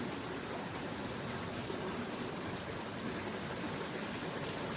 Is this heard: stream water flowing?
yes